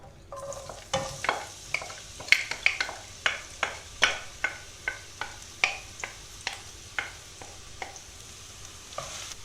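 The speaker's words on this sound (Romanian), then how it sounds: "Într-o tigaie punem uleiul și așteptăm să se încingă. Apoi punem ceapa." Onions go into hot oil in a frying pan with a soft steady sizzle, while a spoon or spatula scrapes and stirs in a regular rhythm of sharp clicks, close and fairly quiet.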